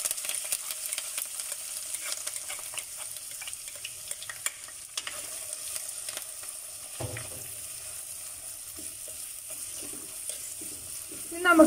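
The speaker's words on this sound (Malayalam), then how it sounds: "നമുക്കിതൊന്ന് വഴറ്റിയെടുക്കാം." Crushed onion, ginger and spices sizzle in hot coconut oil for a Kochi-style sole fish curry, a steady soft frying hiss with occasional stirring scrapes, gradually quieting partway through.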